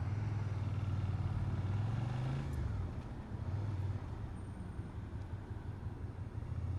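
Steady low engine drone from a motorcycle in road traffic, with a nearby car idling and rolling close behind, a brief rising whine partway through, continuous and fairly loud with no talk.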